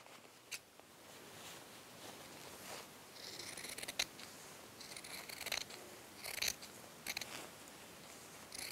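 Scissors cut a fitted bed sheet apart in soft snipping strokes, with a few sharper clicks of the blades over a steady low background hiss, close up and quiet.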